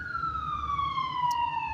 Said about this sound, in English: we got an ambulance over there.